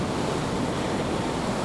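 Wind rushing past while riding a Zero SR ZF12.5 electric motorcycle at speed, a loud, dense, steady roar of buffeting air that fills the whole moment with no engine note and no talking.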